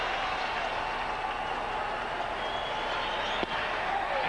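A large baseball crowd at an Astros home game against the Cardinals buzzes steadily, a dense distant murmur and cheer filling the stadium, with one sharp knock near the end.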